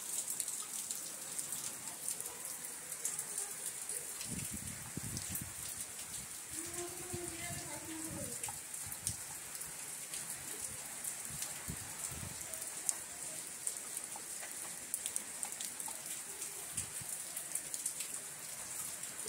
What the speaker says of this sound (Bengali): এই বৃষ্টি মনে আজকে কমবে না,